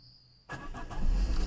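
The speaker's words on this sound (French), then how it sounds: "Voilà, le moteur est démarré" A car engine starts during an E85 flex-fuel kit installation. Near silence gives way to a sudden crank and catch, and the engine then settles into a loud, rumbling idle close by.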